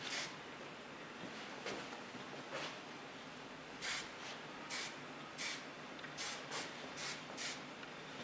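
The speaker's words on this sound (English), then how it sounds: "I use a soft hairspray of Lanza." Several short hiss bursts of Lanza soft hairspray misted onto a styled asymmetric haircut, close and crisp, some in quick succession with brief pauses between.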